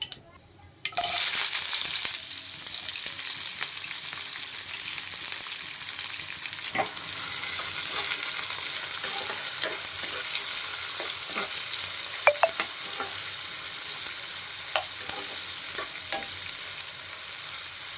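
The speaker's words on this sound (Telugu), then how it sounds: "ఆయిల్ హీట్ ఎక్కాక ఇందులో ఆవాలు వేసుకోవాలి, జీలకర్ర, నెక్స్ట్ ఆనియన్, మిర్చి, కరివేపాకు 3 వేసుకోవాలి" Mustard seeds, cumin, onion, green chili and curry leaves fry in hot oil for a dhondakaya (ivy gourd) fry, opening with a loud burst of sizzling that settles into a steady hiss, broken by scattered crackles and spoon taps.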